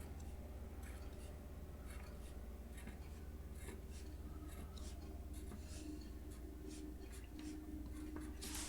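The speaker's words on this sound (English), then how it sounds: "I'm going to go ahead and draw this one nice and dark." A pencil draws dark lines on a mechanical drafting sheet of a widget, a soft, close scratching in short strokes over a steady background hiss, faint and continuous.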